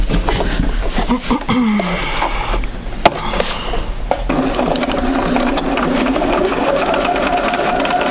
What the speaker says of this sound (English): We're going to sew this one more time.